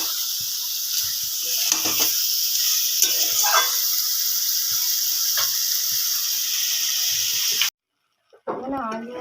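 Fried potatoes and pointed gourd sizzle hard in a pan as they are sautéed in spices for a prawn and vegetable curry, a loud steady hiss with stirring scrapes, cutting off before a brief voice at the end.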